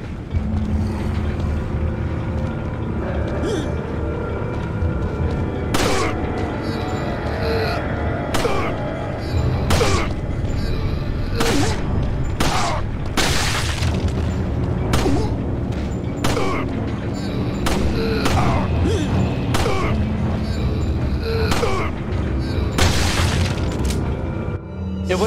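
Dynamite blasts inside a mine in Resident Evil 4 HD, a run of loud booming explosions and crackling gunfire-like bursts repeating throughout over a constant dense rumble of game noise.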